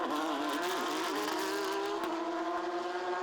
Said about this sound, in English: It's a good fight here between two Q1 track racing Porsches.